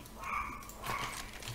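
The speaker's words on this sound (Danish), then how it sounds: "undskyld min hund gør, men sådan er hun" A dog gives a couple of short, muffled barks or yips at moderate distance, over a steady background hiss.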